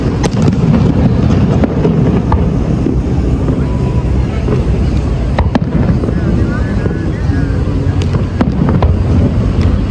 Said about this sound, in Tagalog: I think that's the biggest fireworks.